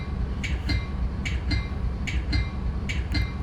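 A passenger train in Train Simulator 2016's Chicago-Aurora route eases up to the buffers at a platform, with rhythmic metallic clicks and clacks of wheels over rail joints above a low rumbling drone.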